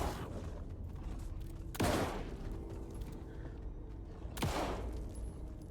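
Two sharp, booming gunshots ring out in the video game Alan Wake 2, spaced a few seconds apart, each with a short decaying tail over a low, dark ambient background.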